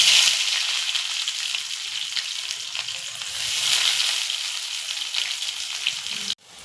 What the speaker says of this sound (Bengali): দারচিনি, ছোট এলাচ, লবঙ্গ ফোড়নে দিলাম। আর এই পেঁয়াজটা ভেজে দিলাম।